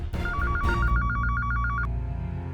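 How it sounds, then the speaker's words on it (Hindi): An electronic telephone bell rings on a home phone in a TV drama. There is one rapid warbling ring burst of about a second and a half, clear and close over a low background hum. "फोन उठाओ"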